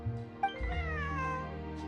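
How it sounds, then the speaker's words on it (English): Cats fighting and meowing in Genshin Impact, with a close, loud yowl rising and sliding over a low game music bed, several overlapping cries across two seconds. "Oh, they're fighting over the damn cat."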